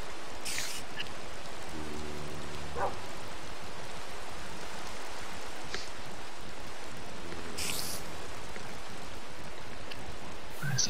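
Steady video game rain hisses evenly throughout, with a few brief brighter bursts and faint low tones underneath.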